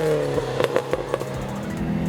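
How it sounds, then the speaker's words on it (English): A 1997 Subaru Impreza STI Type R Version III engine rumbles close and steady, with a few sharp clattering bursts over the low, throbbing drone in rainy surroundings. "Here I am driving one of the most hardcore Impreza STIs"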